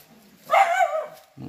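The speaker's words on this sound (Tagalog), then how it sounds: "Mga aso." Dogs in a forest during a honey bee hunt give a short burst of barking, a loud close yelp-like bark lasting under a second, followed by quieter rustling.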